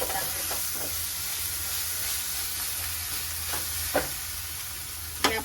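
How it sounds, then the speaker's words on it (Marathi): Coriander powder roasts in a pan with a steady, loud sizzle and hiss, broken by a few sharp stirring scrapes near the end; no voices. "धण्याची पावडर, तिला पण थोडं चांगलं मस्त भाजू दिली ना पावडर धण्याची"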